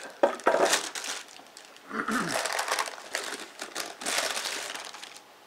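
Parchment paper peeled away from a batch of hot process soap, giving bursts of crinkling and tearing rustle in uneven waves over several seconds, close by, with little else audible.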